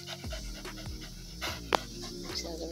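A dog in the Jamaican countryside pants rapidly and rhythmically close by, with quick breathy huffs and a couple of sharper bursts.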